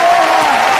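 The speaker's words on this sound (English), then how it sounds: "Crowd showing their respect for a virtuoso performance from the pile driver." After a UFC cage fight in which Jessica Andrade overcame Claudia Gadelha, an arena crowd applauds the winner in a dense, steady wash of clapping and cheering that holds loud and continuous throughout, with a faint tone running beneath it.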